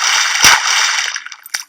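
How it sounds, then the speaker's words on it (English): Boots splashing in a spring puddle, one sharp loud splash followed by trickling, dripping water and a second smaller splash near the end; close and alone. "And that's the sound of boots splashing in spring."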